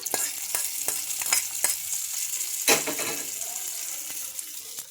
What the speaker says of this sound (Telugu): ఈ రెడీ అయిపోయిన పోపుని ఈ చట్నీలోకి వేసుకుంటున్నా